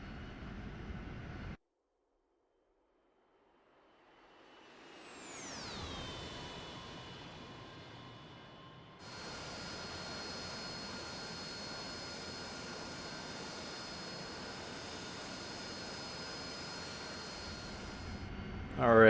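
An AV-8B Harrier jet engine in a flight simulator spools up with a rising, sweeping whine and settles into a loud, steady turbine roar with high tonal whistles.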